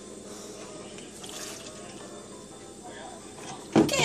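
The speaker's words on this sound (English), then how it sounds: "Okay, I poured it, Mario." Liquid pours with a soft, continuous trickle and a few drips, low and muffled, ending in a brief louder splash.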